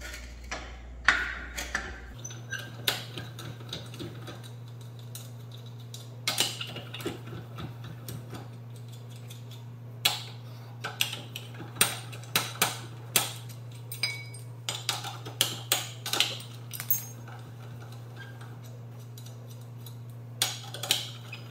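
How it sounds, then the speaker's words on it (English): Lug nuts being worked off a car wheel with a tire iron give a series of sharp, irregular metallic clicks and clinks over a low steady hum, fairly quiet and close. "Now you're going to take this tire iron and you're going to remove all the lug nuts."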